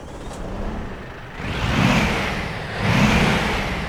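Volvo FH Aero 780 truck with a 17.3-litre straight-six diesel of 780 horsepower, simulated in Euro Truck Simulator 2, growling steadily and then swelling through two loud rising revs, with no talk over it.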